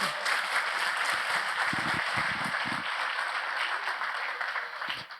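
A church congregation claps in a sustained, moderately loud round of applause that fades slightly toward the end, with a few low thumps and murmurs mixed in.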